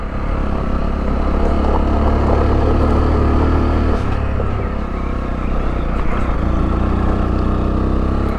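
A 2021 Sinnis Terrain 125 motorcycle plods uphill along a lane in third gear, its engine giving a loud, steady low drone with wind rumble, close to the rider and uninterrupted.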